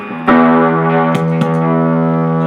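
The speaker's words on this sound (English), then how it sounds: "Now there are times where I'll turn the gain up really loud on this guy." An electric guitar runs through a Nobels ODR overdrive pedal with the gain turned up, sustaining a loud, thick distorted chord with a couple of sharp re-picked attacks, close and alone.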